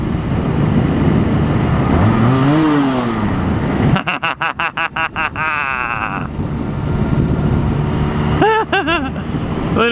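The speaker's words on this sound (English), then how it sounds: "Watch this, we'll give him a little rev bomb." A Honda Rebel 250 motorcycle engine is blipped in a quick rev bomb, a close, sharp rise and fall in pitch followed by a run of rapid staccato revs, with a short bleat-like tone near the end.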